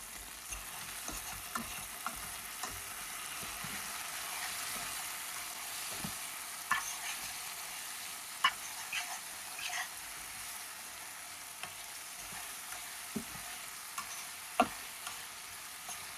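Methi leaves and potato cook in a covered pan, giving a faint, steady sizzle with scattered small ticks and pops, quiet and continuous.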